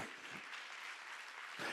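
Brief, quiet congregation applause at a Sunday church worship service during a university young adults' retreat, a soft wash of clapping lasting under two seconds.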